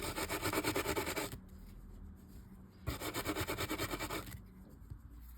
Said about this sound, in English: I'm going to scrub this eared washer a little bit.